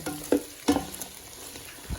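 Chicken fries in a pan for Kozhikode biryani, giving a quiet, steady sizzle broken by two sharp stirring scrapes close by.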